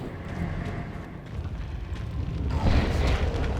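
Heavy artillery blasts from a siege cannon in the Dawn of War 2 strategy game, a dense continuous rumble of booming explosions that swells louder near the end, with no voices.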